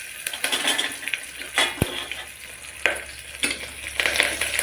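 Onion, chili and curry leaves fry in oil for mango rice, a close, steady sizzle broken by spoon scrapes and a sharp metallic clink against the pan.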